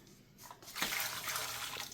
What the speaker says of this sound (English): dump the water out.